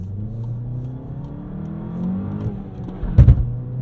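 A 2022 Volkswagen Jetta GLI with a six-speed manual and limited-slip differential pulls hard under acceleration, its engine droning steadily before a brief rough double thump of wheel hop near the end.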